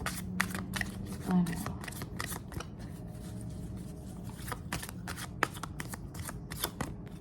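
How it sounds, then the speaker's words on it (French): Tarot cards are shuffled close by in quick bursts of soft riffling and sliding clicks over several seconds, fairly quiet, with some low talking in the background. "je vais remettre parce qu'il y a trop de cartes qui sont tombées"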